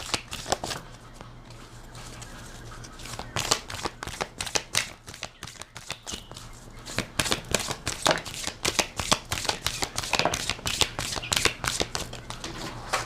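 Tarot cards are shuffled by hand, close up, in a dense run of rapid flicks and taps that keeps going without a break, with no voice.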